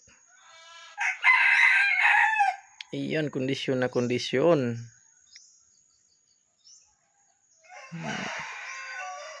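A captured red junglefowl rooster crows once, clear and close, with a long drawn-out call in the middle. Someone talks briefly before and after the crow, and there are quiet stretches around it.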